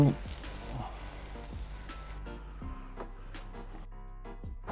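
A galette with red onions and barbecue sauce cooking on a Krampouz crêpe griddle, a steady close sizzle with scattered light clicks and scrapes, thinning out toward the end.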